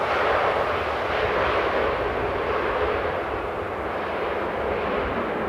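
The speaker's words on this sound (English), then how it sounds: "Beautiful A321 by Transavia here." A Transavia Airbus A321 at Amsterdam Airport gives off a continuous broad jet roar, loud and fairly close, holding steady and easing off only slightly toward the end, with no voices.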